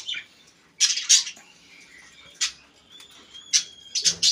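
Pet birds squawk and chirp in sharp, loud bursts with brief wing flutters between calls, close by and without talk.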